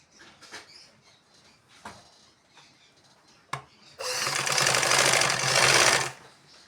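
A sewing machine stitches a panel onto an Anarkali frock: soft handling and rustling at first, then the motor runs loud and steady for about two seconds before stopping.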